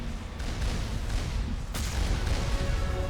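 Mako cannon fire in Mass Effect, heavy booming blasts over a dense, continuous rumble of combat noise, loud throughout with a sharper burst partway through.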